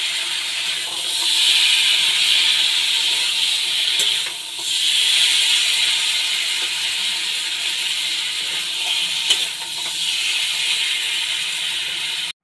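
Potato, papaya and ridge gourd sizzle in spices in a pan, a loud steady hiss close by that dips briefly several times as the pieces are stirred, with no voices.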